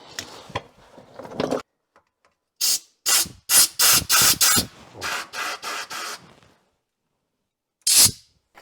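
Cleaner sprayed into a rear differential housing with a broken stud, heard as a run of short, sharp hissing bursts in an irregular rhythm, loud and close, with a final burst after a pause.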